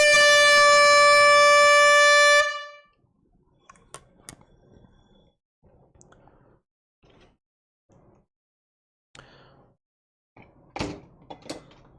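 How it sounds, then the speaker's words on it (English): A loud, sustained air horn blast holds steady for about two and a half seconds and cuts off abruptly, followed by faint clicks and scattered small noises. "it's time for an air horn"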